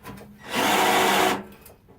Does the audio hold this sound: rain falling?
no